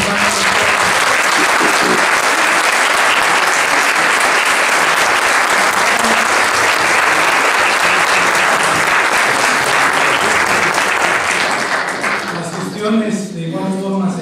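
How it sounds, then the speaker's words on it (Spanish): Loud, sustained applause from a large audience at a ceremony honoring women's philanthropic work, dense clapping filling the space before fading near the end as a voice begins speaking. "quiero también que le demos un aplauso a Omar de Arena Córdoba"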